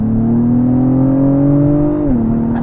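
Acura TLX Type S engine in Sport Plus mode, a steady loud drone that rises in pitch under throttle, then dips abruptly as the revs drop, close and continuous with no talking.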